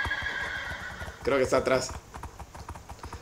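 A horse whinnies briefly amid steady hoof clip-clops during a horse race, with people talking over the sounds throughout.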